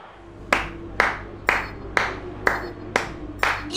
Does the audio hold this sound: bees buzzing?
no